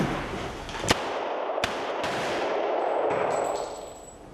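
A pump-action shotgun fires several sharp, loud reports in quick succession. Each blast rings out with a reverberant tail.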